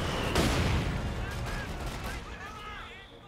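Wehrmacht mortar fire in Company of Heroes 2, a close heavy blast at the start followed by rumbling impacts and debris that fade out, with game effects layered over the tail.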